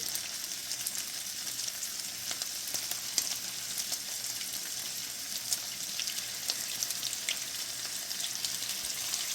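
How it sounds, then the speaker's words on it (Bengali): Chicken muthi kababs frying in hot oil held just below medium heat, a steady close crackling sizzle with scattered pops throughout and no voices. "এখন আমি প্রত্যেকটা কাবাবকে আস্তে আস্তে গরম তেলে ছেড়ে দিব"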